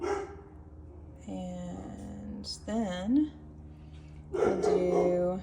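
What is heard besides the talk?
dog next door barking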